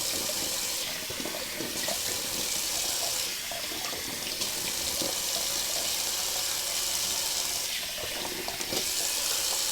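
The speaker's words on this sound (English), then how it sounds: "Cold water rinse." A bathroom tap runs cold water for a rinse after a wet shave, giving a steady close splashing stream into the sink with no break.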